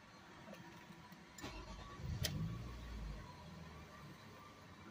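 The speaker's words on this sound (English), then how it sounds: "Now we'll restart the engine." A Toyota RAV4 2.4-liter 2AZ-FE engine cranks and turns over, then settles into a low, steady rumble nearby.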